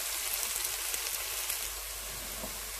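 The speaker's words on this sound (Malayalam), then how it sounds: "സവാള നന്നായിട്ട് വഴണ്ട് വരട്ടെ." Chopped onions sauté in a hot pan with green chillies for a Kerala spinach chicken dish, giving a dense, even sizzle that stays steady and fairly close throughout.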